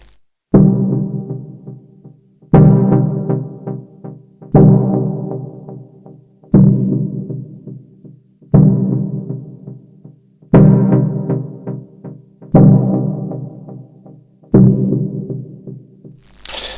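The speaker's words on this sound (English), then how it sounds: "it's about creating dubby chord steps, chords for dub techno, which sound like this." Eight evenly spaced dub techno chord stabs from an Elektron Analog Four synthesizer, each a warm, muffled hit with a decaying echo tail, repeating in a steady slow loop with no voices.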